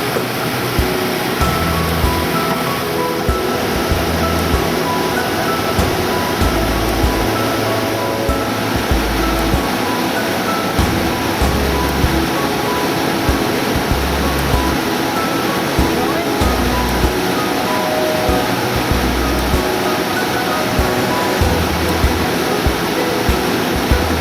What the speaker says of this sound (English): there's 3-4 waterfalls cascading down the side here.